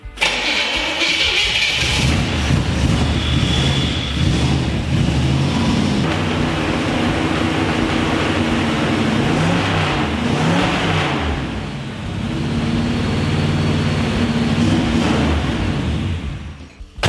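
A 1963 Chevrolet Impala lowrider engine idles steadily and close by for the whole stretch, cold-started in snowy weather after a timing adjustment, its low throbbing drone holding even with only slight swells.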